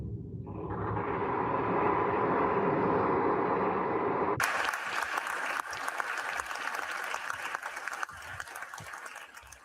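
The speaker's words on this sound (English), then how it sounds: "how long are they gonna clap for?" An audience claps at a swearing-in ceremony, a dense, sustained wash of applause that continues for several seconds before thinning into scattered, uneven claps.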